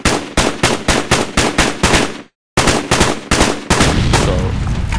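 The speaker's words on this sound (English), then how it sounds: "you could actually shoot the red barrel from under here" Rapid video-game gunfire aimed at a red barrel: loud, evenly spaced shots in a steady rhythm, a brief silent gap, then a second run of shots that blurs into a denser roar.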